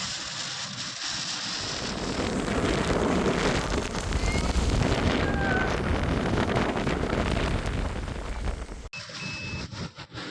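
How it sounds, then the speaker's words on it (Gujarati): Strong, roaring wind from a mini cyclone during heavy rain in Banaskantha, Gujarat, buffets the microphone for several seconds, a steady dense rush that drops off abruptly near the end. "ચારે બાજુ પાણી અને પવનના સુસવાટા ફફડાવી રહ્યા છે"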